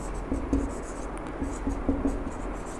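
A pen writes a note on a board or paper during a lesson, giving soft, scratchy strokes in short irregular bursts, close and moderately loud over steady background noise.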